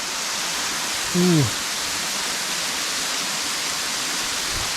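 The Musalavzar waterfall in the Sahyadri mountains gives a broad, unbroken roar of falling water, loud and steady throughout, with one brief tonal sound rising over it near the start.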